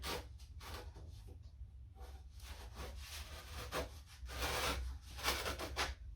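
A tool scrapes repeatedly across a pottery template board, scratching grooves in short rasping strokes, close and fairly quiet, with an uneven rhythm.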